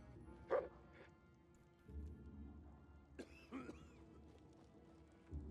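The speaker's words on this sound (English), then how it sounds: "Dog." A dog in the video game Dying Light 2 gives a few short, sharp bark-like yelps, spread out and at moderate distance over a low ambient game hum.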